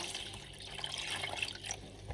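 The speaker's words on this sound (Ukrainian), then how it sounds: "вода просто з-під крана холодна" Cold water running from a kitchen tap into a container with salt for soaking eggplant, a steady, fairly quiet hiss and splash that continues without a break.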